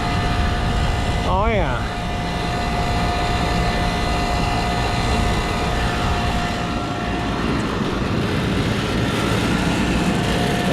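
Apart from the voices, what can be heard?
HVAC blower running in AC unit, second stage on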